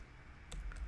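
Typing on a computer keyboard while writing Selenium test code, a few close key clicks arriving after a short quiet stretch.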